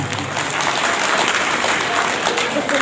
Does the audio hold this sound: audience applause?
yes